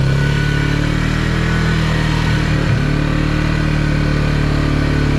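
A small Polaris UTV engine runs steadily in 4-wheel drive through mud, a loud, continuous mid-pitched drone with a brief dip and surge partway through, no voices.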